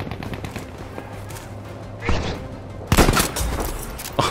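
Sniper rifle fire in Battlefield, with two sharp booming shots, one near the middle and a louder one later, over a low background rumble.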